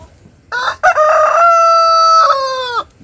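A rooster in a park-museum in Kemer, Turkey, crows once loudly and close by, a long drawn-out call lasting a couple of seconds after a brief cluck.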